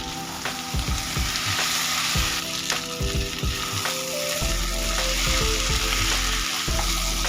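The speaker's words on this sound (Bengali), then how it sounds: "আগে থেকে ভেজে রাখা ফুলকপি আর আলুগুলো দিয়ে দিলাম। আরো 3-4 মিনিট কষিয়ে নেব।" Cauliflower and potatoes sauté with spices in a pan, a steady close sizzle and frying crackle with repeated scraping and stirring strokes throughout.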